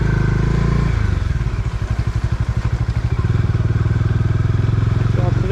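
A motorcycle rides a muddy off-road track on the route from Jatinga to Silchar. Its engine chugs close and loud in a steady low throb throughout, with small surges and dips as the rider eases along.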